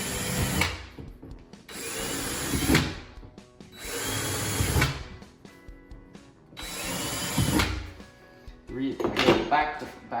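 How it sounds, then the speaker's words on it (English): A power drill whirs in several separate bursts, each a few seconds long, drilling holes in a kitchen cabinet, with clunks and knocks from wood between them; a person talks throughout. "then I'll actually drill all those from this side."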